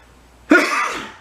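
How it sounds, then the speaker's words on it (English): A single sharp cough from a person nearby, sudden onset then a short rough tail fading out. "I'm coughing here, and I apologize for that."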